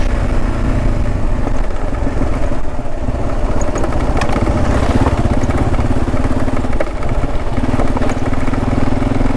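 A Kawasaki KLR motorcycle engine runs steadily and loud up close on a rough backcountry trail, a continuous low rumble with a slight rhythmic pulse throughout and no talking.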